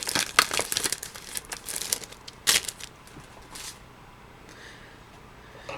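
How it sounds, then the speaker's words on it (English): Sticker numbers peeled off a backing sheet, a close series of crisp crinkling and ripping sounds in short bursts that fade to near quiet after about four seconds, with no talk. "Just peel them off the back of here."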